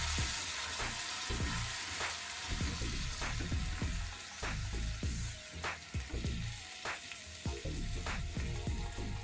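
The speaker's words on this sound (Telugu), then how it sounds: "ఇది కొంచెం ఆయిల్ సపరేట్ అయ్యేంత వరకు మనం దీన్ని ఫ్రై చేసుకోవాలండి." Bottle gourd shorva masala with turmeric and curry leaves fries in oil, a steady close sizzle broken by repeated scraping stirs and clinks of the spoon throughout.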